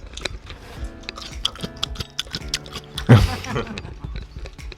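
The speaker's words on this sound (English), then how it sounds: "This is the mu, the radish in the mul kimchi as well, which gives a really refreshing crunch to things." Crisp radish from Korean mul kimchi crunched between the teeth in close, microphone-near bites, a run of small snapping chews with one louder crunch partway through.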